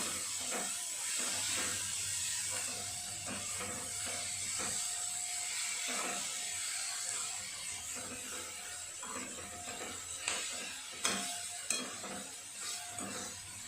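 Tomato and onion masala cooks on a low flame for okra curry, a soft, steady sizzle and hiss with a few light clinks of a spoon against the pan, quiet and close, with no speech.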